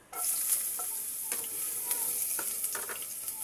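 Ginger sautéing in a hot frying pan, a bright steady sizzle from start to finish punctuated by several clinks and scrapes of a stirring utensil, close and alone.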